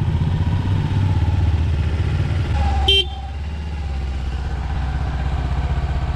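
Motorcycle engine, a Kawasaki Ninja 300 or Bajaj Dominar 400 on a road ride, droning steadily up close with wind noise, interrupted by one short horn toot midway.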